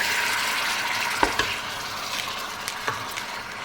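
Food sizzles steadily in a pot while a utensil stirs and scrapes against the metal a few times, close by, as chicken cooks with tomatoes.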